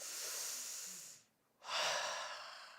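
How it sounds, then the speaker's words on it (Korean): A long, deep inhale and a full exhale from a church congregation breathing together during a Sunday service, separated by a brief pause, breathy and soft with no talking. "오늘 좀 숨을 크게 한번 들이셨다 내쉬겠습니다"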